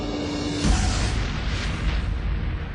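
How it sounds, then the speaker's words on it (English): A huge explosion rocks a quiet French seaside town at night, sabotage at a nuclear reactor core under construction in 1979: a sudden deep boom opens onto a sustained, heavy rumbling roar that stays loud and dense for seconds. "the quiet town of La Seine-sur-Mer was rocked by a huge explosion"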